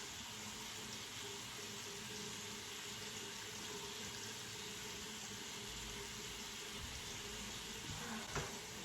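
Tap water runs steadily into a sink while skincare product is rinsed off, a soft, even, fairly quiet rush with a brief splash near the end and no talking.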